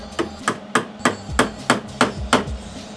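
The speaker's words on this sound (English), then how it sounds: "Yes, I did just hammer a screw in." A hammer driving a screw in, about eight sharp metallic blows in a steady rhythm, close and fairly loud, with a faint background hum.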